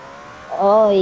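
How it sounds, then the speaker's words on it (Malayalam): A Roblox car engine whines as it drifts in the Baseplate drifting game, a short tonal rev that rises sharply and holds loud near the end. "ഈ വണ്ടിക്ക് സ്പീഡ് ഇല്ലെങ്കിലും പക്ഷേ ഇതാണ് കേട്ടോ, നല്ല ഡ്രിഫ്റ്റ് അടിക്കും."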